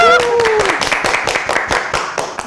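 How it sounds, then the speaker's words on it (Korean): A small audience at a local running-crew talk event gives a short burst of clapping, with distinct rhythmic claps following a brief voice at the start. "그래서 박수 한번."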